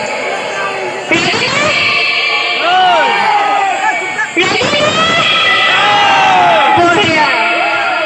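An audience at a Rongali Bihu comedy show shouts and cheers loudly in two big waves, with whoops rising through a dense, sustained crowd roar.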